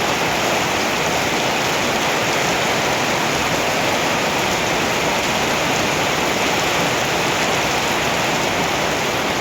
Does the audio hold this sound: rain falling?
yes